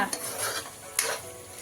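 A spoon stirs chicken pieces through masala in a pan while making Kharda chicken at home, giving two short scraping strokes over a faint sizzle.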